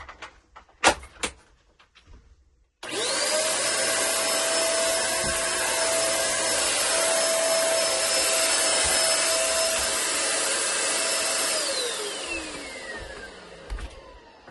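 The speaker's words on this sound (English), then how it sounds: "I can also run the vacuum cleaner." Vacuum cleaner running inside an RV, starting abruptly after a few light knocks and holding a loud steady whine for about ten seconds before winding down with a falling pitch.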